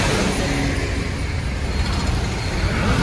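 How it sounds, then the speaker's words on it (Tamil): Dense road traffic near Salem roars steadily at close range, with engines of cars, trucks and buses blending into one broad, continuous rumble. "போயிட்டு இவ்வளோ டிராஃபிக்காக இருக்குது"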